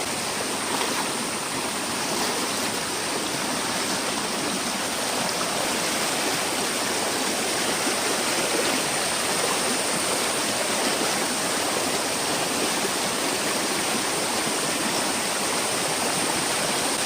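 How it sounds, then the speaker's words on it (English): Fast-flowing waterfall at Devloli dam near Panvel, a steady, loud rushing roar of water that stays unbroken and close throughout, with no voices. "This waterfall is flowing actually very fast."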